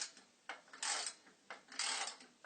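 Small screws being driven into the tail leg wheels of a toy go-kart, heard as quiet, close clicking and grinding bursts that come in short, repeated turns with brief pauses between them.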